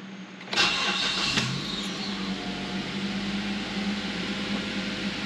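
A 2009 Mazda 3 with 213,120 miles, fresh motor mounts fitted, starts up with a brief cranking burst, then settles into a smooth, steady mid-pitched idle heard close from inside the car.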